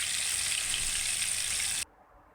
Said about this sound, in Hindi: अब इसे अच्छे से फ्राई कर लेंगे।